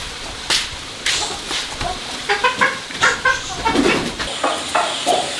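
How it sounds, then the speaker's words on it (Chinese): Half-month-old chicks kept upstairs on a farm, chirping and clucking in short scattered bursts close by, with a few sharp knocks and rustling around them. "我带大家看一下我的那个小鸡，它在楼上"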